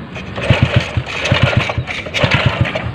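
A faltering small motorcycle engine runs unevenly nearby, with rhythmic low putters and sputters in short bursts amid steady background noise.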